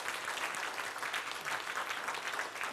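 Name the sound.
audience applause at seminar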